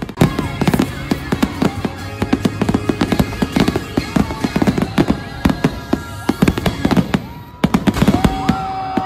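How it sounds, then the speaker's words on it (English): Fireworks at the Great America Carnivale, a rapid string of loud cracks and bangs bursting one after another with a steady crackle throughout, faint voices mixed in. "They ended the night with fireworks."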